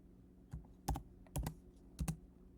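Keystrokes tap on a computer keyboard during MySQL database work: a handful of sharp, separate clicks spaced about half a second apart, quiet and close, with no talking.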